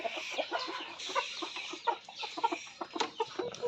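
Shamo gamecocks clucking in a pen, a steady run of close, overlapping clucks and short calls with soft rustling behind, no talking.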